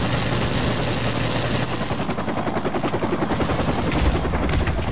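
In a Call of Duty Modern Warfare Remastered match, a helicopter's loud rotor chop throbs steadily throughout, mixed with rapid bursts of gunfire, and no one talks.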